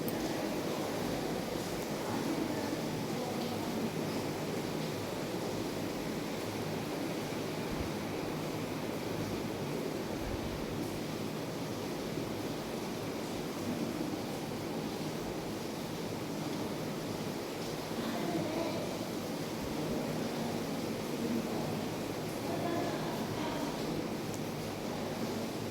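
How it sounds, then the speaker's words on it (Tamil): Herbal hair oil at a full boil in a pan: a continuous, dense bubbling hiss, steady and fairly soft throughout, with no voices. "நல்லா கொதி வந்து அந்த எசன்ஸ் வந்து முழுசாகவே உங்களுக்கு இறங்கி எண்ணெய் வந்து நல்லாவே கொதிச்சிட்ருக்கு"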